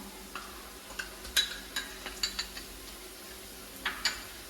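Onions, green chilies and ginger-garlic paste stirred in a pan, with a series of sharp scraping and clinking taps of a spoon against the pan over a faint sizzle, close and fairly loud.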